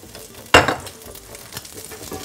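Meat searing in oil in a hot Instant Pot, a loud sudden sizzle as a piece hits the oil, then a steady frying crackle that fades to a low continuous hiss.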